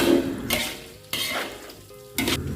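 Pork skin with fat sizzles in hot oil in a pan for crispy cracklings, with three bursts of scraping and stirring that swell the steady frying hiss. No one speaks.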